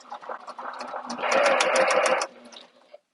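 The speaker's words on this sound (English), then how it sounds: "I started with 1/2 inch seam allowance, and I'm backstitching to start" A home sewing machine stitching a seam in a wristlet, the motor whirring in short starts then running in a loud, steady rapid hum for about a second before stopping, heard close.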